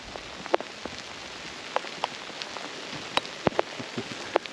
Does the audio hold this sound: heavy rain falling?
yes